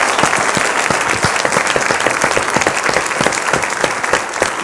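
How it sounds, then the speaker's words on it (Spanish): Dense, steady applause from a crowd, many hands clapping continuously and fairly loud, with no voices standing out. "Un aplauso a él,"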